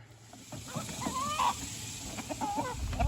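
Chickens cluck and make soft squawking calls close by, several short vocalizations over a faint outdoor background.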